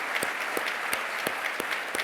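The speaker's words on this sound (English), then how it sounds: "Let's give them a round of applause." An audience at an association assembly applauds, steady crowd clapping at moderate distance with a few sharper claps standing out, no talk over it.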